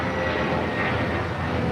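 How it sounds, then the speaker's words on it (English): An 18-year-old JetBlue Airways Airbus A320, Flight 880 to Las Vegas, takes off from LAX, its engines a steady, broad roar held at constant loudness throughout. "This is Idlewild Blue taking off to Las Vegas."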